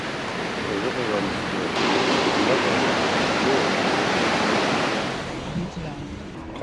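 A river flows past a guest farm in the Gowan Valley, KZN Midlands, a loud, dense rush of water that swells and holds steady before easing off near the end.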